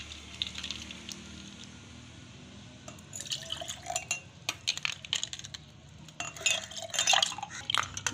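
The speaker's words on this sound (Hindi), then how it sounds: "अब मैं आपको डाल के दिखाती हूँ गिलास में।" Falsa fruit juice pours and trickles into a glass, with a faint steady splash and scattered clinks of glass in a quiet kitchen.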